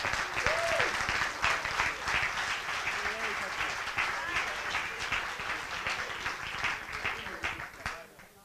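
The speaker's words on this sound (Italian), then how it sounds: "Un applauso da Siena, Battipaglia." An audience in a hall in Siena applauds steadily and loudly for about eight seconds, with a dense wash of clapping and some voices mixed in.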